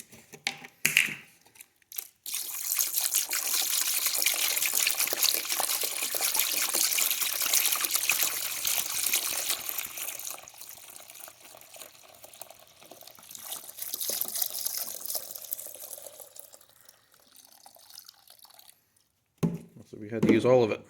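Evaporust liquid pours over fire-damaged AR rifle parts in a container, a close, steady splashing trickle for most of the clip. It thins out and then swells again before a few clunks of handling at the end.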